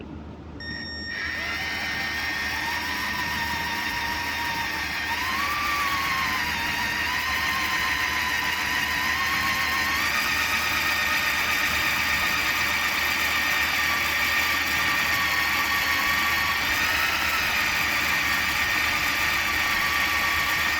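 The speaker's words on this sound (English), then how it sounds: "And we actually got a smaller drill." A steady high-pitched power drill whine runs continuously, its pitch wavering slightly as it bores into a Honda K20/K24 cylinder head, close and loud with no talking.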